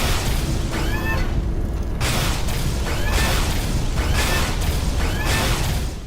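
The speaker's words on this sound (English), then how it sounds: "This device lobs fireballs that can light up areas in a blaze of glory." Napalm Launcher in a video game lobbing fireballs: about five loud whooshing launches, each followed by a burst, coming in a steady rhythm roughly a second apart with no pauses between.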